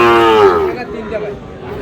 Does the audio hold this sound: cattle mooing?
yes